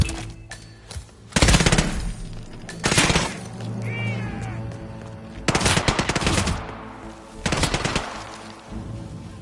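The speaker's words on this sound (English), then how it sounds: "Shots are coming on!" Gunfire in the Hitman 3 video game, several loud bursts of rapid automatic shots with glass shattering between them, spaced a second or two apart, with faint game sounds in the gaps.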